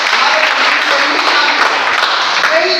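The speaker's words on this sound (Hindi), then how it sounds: "एक बार जोरदार तालियां उनके लिए" Loud, dense audience applause at a company motivational meeting, a sustained roar of many hands clapping close and steady from start to finish, with faint voices mixed in.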